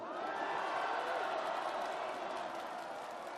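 Crowd at an outdoor presidential campaign rally in Myeongdong, Seoul, on Independence Movement Day, cheering and clapping in a steady dense roar that holds throughout.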